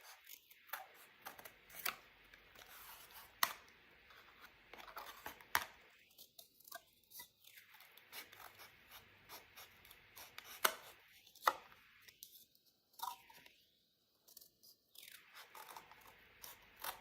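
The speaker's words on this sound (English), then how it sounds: "So I'm just going to cut it." Scissors cut through material for a fishbowl snowman's hat, giving quick, close, crisp snips in several short bursts with pauses between them.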